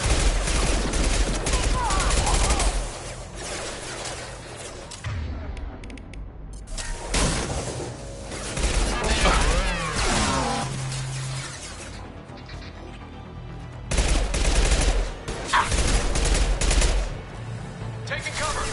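Gunfire in the video game Mass Effect 2: repeated loud bursts of automatic weapon fire and impacts in several long volleys, with quieter gaps of game sounds between them.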